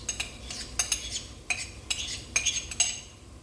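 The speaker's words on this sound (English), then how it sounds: "So then I'll just stir it like that, and I'll just kind of keep going until it's mixed up well inside here" A utensil stirs a thick, soup-like mix: soft, spaced clinks and scrapes against the container at an unhurried, uneven pace, close and fairly quiet.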